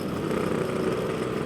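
A Yamaha RX King two-stroke motorcycle engine idles close by in a steady, even rumble, heard alone with no talking.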